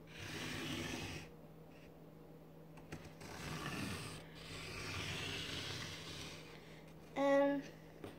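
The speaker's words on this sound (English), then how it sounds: "So first we're gonna need to trace it with the crayon." A crayon traces an outline on paper with soft, scratchy rubbing strokes that come in faint bursts over a low steady hum, and a short tonal blip near the end.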